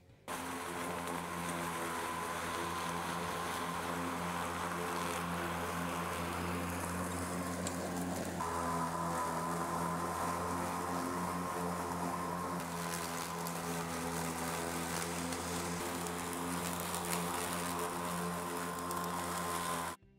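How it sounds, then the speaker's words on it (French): A Grin BM46 82V battery lawn mower cutting thick wet grass, its motor giving a steady, loud whirring hum with a rustling cut of grass that shifts pitch briefly partway through and runs unbroken for about twenty seconds. "Voyons comment se comporte la tondeuse Green."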